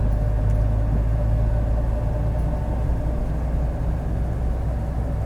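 A van heard from inside as it drives across a dam in the Beliș area of the Apuseni Mountains, with a steady loud low engine and road rumble that carries on without a break.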